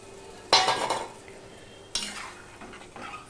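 Water poured into a hot pan for Bele fish curry, two sudden bursts of loud hissing sizzle that fade off, the second shorter, with quiet kitchen clatter between.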